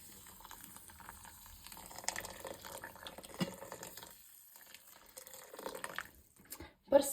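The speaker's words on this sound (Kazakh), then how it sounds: "Үстінен қайнап тұрған суымызды қосамыз" Boiling water poured from a kettle onto poppy seeds in a bowl for a Kazakh bun recipe: a quiet, intermittent liquid trickle and splash, with a brief louder clink near the end.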